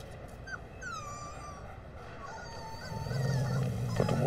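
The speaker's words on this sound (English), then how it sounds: "Not a puppy. A wolf." A wolf cub whimpers and yelps in a short series of thin, rising cries, fairly close, with a low rumbling background swelling toward the end.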